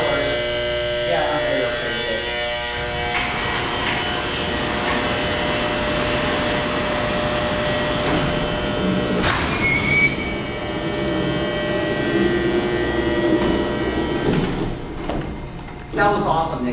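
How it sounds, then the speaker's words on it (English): Massive Dover hydraulic freight elevator doors closing, a steady loud mechanical drone with squealing tones and a clunk near the end, continuous and close. "Now we close the doors."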